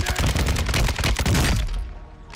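Dense, loud gunfire from a Call of Duty Warzone match, with rapid overlapping shots and bursts filling most of the moment before tapering into a quieter tail.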